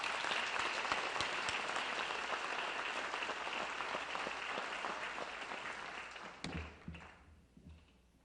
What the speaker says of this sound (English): if we could get a round of applause for all of our honorees